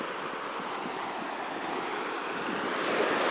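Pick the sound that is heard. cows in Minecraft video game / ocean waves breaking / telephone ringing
ocean waves breaking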